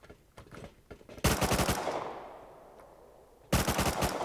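Automatic gunfire in a multiplayer battle royale shooter game, with two loud bursts of rapid shots separated by a quieter stretch of fading echo.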